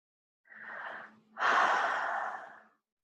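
Two slow breaths during a guided meditation, a soft airy inhale followed by a longer, fuller exhale, close and quiet in otherwise silent surroundings.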